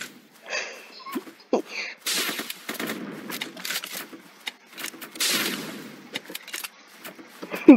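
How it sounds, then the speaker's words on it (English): Rapid bursts of rocket and weapon fire in the online battle game Zombs Royale, loud and close, crackling in choppy volleys with short gaps between and sharp blasts near the end. "We both shot ourselves with rockets."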